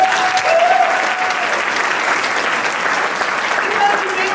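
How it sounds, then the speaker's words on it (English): A crowd of seniors at a Colorado Capitol lobby day applauds the state legislature, a broad, even wash of clapping sustained for several seconds with a faint tone under it. "I want you to give a big applause for the Colorado Legislature"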